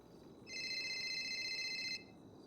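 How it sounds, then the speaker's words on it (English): A phone rings in the game GTA with a single steady electronic tone that lasts about a second and a half and then cuts off abruptly, fairly quiet against a low background hiss. "That's a phone call."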